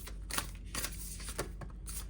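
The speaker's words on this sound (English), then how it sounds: "I'm going to shuffle a little more gently" A deck of playing cards is shuffled gently, giving soft riffling bursts that repeat in a quiet room, close and faint, with no talking.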